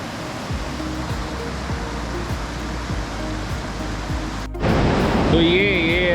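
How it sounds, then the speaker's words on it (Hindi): Continuous rushing of the clear Mandakini river flowing over rounded stones on the Kedarnath route, a dense steady roar close by, growing louder near the end as a voice speaks over it. "तो ये है मंदाकिनी रिवर।"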